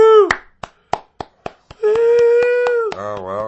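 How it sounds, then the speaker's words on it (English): Single hand claps ring out one by one at a slowing, deliberate pace, loud and close. A few sparse claps then give way to a sustained sung or howled vocal tone that carries to the end. "We had to get a slow clap going for the drastic bagel emergency change"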